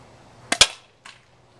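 A Dr. Pepper can struck by an airsoft gun shot: two sharp cracks close together, then a softer metallic hit a moment later, near and fairly loud in a quiet room with no talk.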